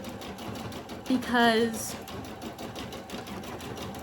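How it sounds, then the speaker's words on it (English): A Singer Futura XL 550 sewing machine runs with a steady rapid mechanical whir and ticking, heard under a person talking nearby. "So this machine is the Singer Futura XL 550"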